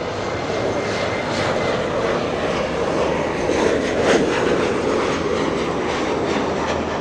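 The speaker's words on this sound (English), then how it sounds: "Embraer E175 coming in." An Embraer E175 airliner lands at LAX with a loud, continuous jet engine roar that swells slightly midway and holds steady, with no talk over it.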